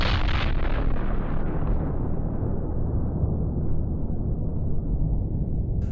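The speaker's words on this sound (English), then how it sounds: "A bomb even more powerful than that at Hiroshima." Atomic bomb explosion at Nagasaki, rendered as a loud, sustained roaring blast with a deep rumble that slowly fades over several seconds, with no voices.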